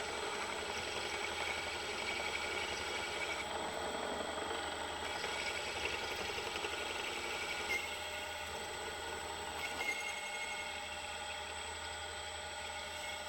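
A David Brown 996 tractor engine runs steadily at about 750 RPM, a continuous droning idle with a constant hum and mechanical whine, heard close and loud with no talk.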